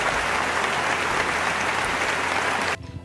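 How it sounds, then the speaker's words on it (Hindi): A burst of dense, even applause with no voices, which cuts off abruptly just before the end. "अपने लिए तालियां बजा लें।"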